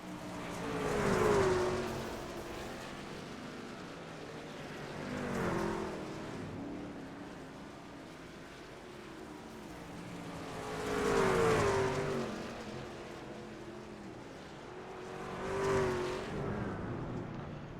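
Race trucks thunder around the Eldora Speedway dirt oval in a racing game, their engines swelling and fading in repeated passes every few seconds, fairly distant with a steady background drone between.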